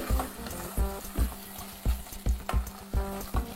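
Coconut-cardamom paste frying with tomato in a pan for carrot pulao, with rhythmic spatula strokes thumping and scraping about twice a second over a bubbling sizzle, close up and without speech.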